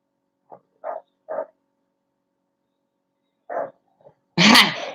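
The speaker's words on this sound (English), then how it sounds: "That's my three-legged hound," A three-legged hound dog barks in a few short, separate woofs, followed by a louder, broader burst at the end, fairly close in an otherwise quiet room.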